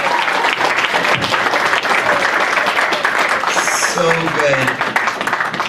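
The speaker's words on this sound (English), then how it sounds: "let's take a big round of applause again for Virginia" Audience at a fan convention Q&A panel applauding loudly, a dense, sustained burst of clapping with cheers and a few voices talking over it.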